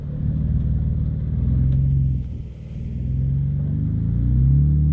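An off-road vehicle engine holds a steady throttle while climbing past a tree on a New Year's Day trail ride at Windrock, giving a loud, continuous low rumble that dips briefly midway and then builds again.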